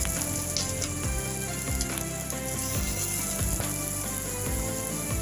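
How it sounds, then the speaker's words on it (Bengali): Onion and green chilli frying in hot oil, a steady close sizzle that runs unbroken throughout, with no talk. "এখন এই তেল গরম করতে দিয়েছি, পেঁয়াজ আর কাঁচা লঙ্কা দিয়ে দিই।"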